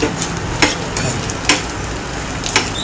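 Edible gum (dink) frying in a pan for methi ladu, a steady sizzle with a few sharp crackling pops spaced through it, close and fairly loud with no voices.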